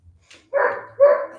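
A dog gives two quick, loud barks close by, one right after the other, preceded by a faint small noise in otherwise quiet surroundings.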